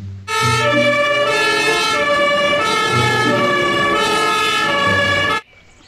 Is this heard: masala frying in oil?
no